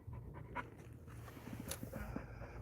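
A dog pants steadily close by at a lakeshore where someone is fishing, quick rhythmic breaths over low background rumble, with no talking.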